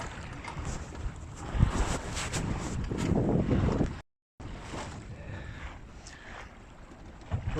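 A Nordica 16 sailboat beating upwind on Mississippi Lake, with wind buffeting the microphone, water rushing and slapping against the hull, and a steady hiss of moving air, briefly cut out partway through.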